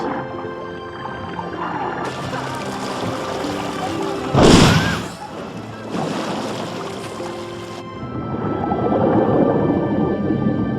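Whale vocalizations in the open ocean form long tonal calls and moans over surf and wind noise, with one loud burst midway, close and prominent throughout.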